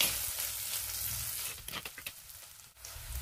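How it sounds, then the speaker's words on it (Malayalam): Onion and garlic sautéing in a pan for a drumstick and anchovy (netholi) fish curry: a soft, steady sizzle with a few brief stirring scrapes near the end, close and quiet. "വെളുത്തുള്ളിയും കൂടി ചേർത്ത് വഴറ്റിയെടുക്കാം"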